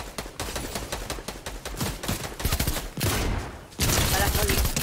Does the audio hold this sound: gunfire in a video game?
yes